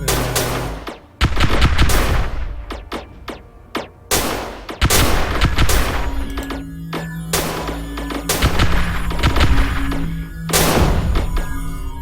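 Crystal gun weapon fire in the space strategy game Star Drive 2, a rapid series of sharp, loud blasts and impacts in bursts across the whole stretch, with sustained tonal hums between volleys.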